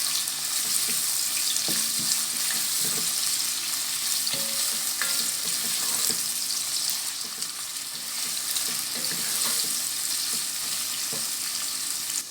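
Chopped onion sautés steadily in a hot pan, a continuous close sizzle with occasional stirring clicks and scrapes, no talk.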